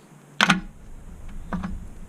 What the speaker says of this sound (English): That noise you heard, it's just the edge of the valve covers.